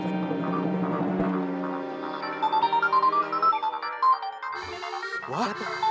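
A phone ringtone plays a bright, tonal melody, loud and continuous, then shifts into a repeating pulsed ring pattern near the end, with no talking over it.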